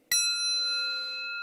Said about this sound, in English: I'll ring the bell as we do that